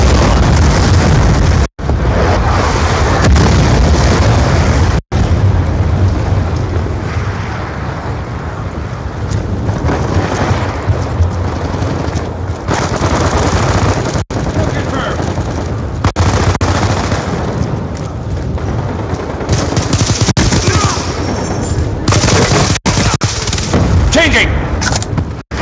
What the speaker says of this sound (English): Be advised, hostile lightning strike inbound.